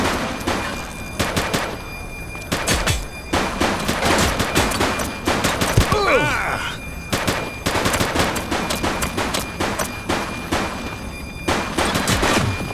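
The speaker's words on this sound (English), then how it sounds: "She's shooting!" Rapid gunfire from The Precinct video game comes in repeated automatic bursts with short gaps, loud and close, rattling steadily throughout.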